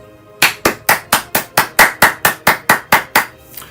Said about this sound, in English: So I think we should give Christina a round of applause right now.